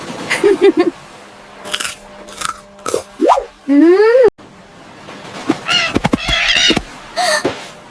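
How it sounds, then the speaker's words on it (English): Several harsh bird caws and squawks at a beach, close and loud, scattered among crunching and other clatter. "That bird wants my lunch!"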